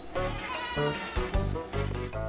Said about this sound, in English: There are more than 100 goats at the Noble Springs Dairy, goats that are glad to welcome visitors to the barn.